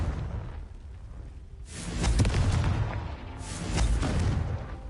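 Deep booming blasts from the Confringo fire spell in Hogwarts Legacy, two heavy explosive bursts with rumbling tails rising over a quieter ambient background.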